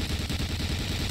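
Rapid automatic gunfire in the World War II shooter Medal of Honor Allied Assault, a fast, even burst of shots from a moving Jeep with engine rumble underneath.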